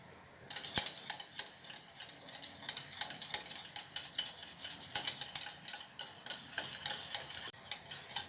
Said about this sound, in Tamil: தயிரை நல்லா அடித்து எடுத்துக்கலாம்